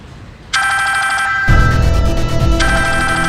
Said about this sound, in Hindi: ये फोन किसका बज रहा है?